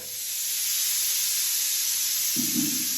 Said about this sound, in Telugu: ఇది ఫస్ట్ విజిల్